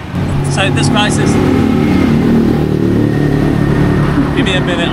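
Loud, continuous engine roar from motorcycles with cut-off exhaust pipes, revving close by and filling the whole stretch with a dense, rumbling drone.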